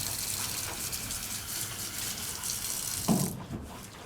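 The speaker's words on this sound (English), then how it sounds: "Turn on the water." Water running from a sink tap during cleanup after linoblock printing, a steady faint gushing and splashing with a brief louder splash near the end, no talk.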